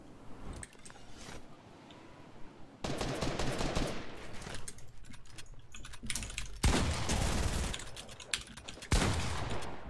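Gunfire rings out in Fortnite as several sharp, loud bursts, each followed by a trailing echo, separated by a few seconds of quieter game ambience, with no voices.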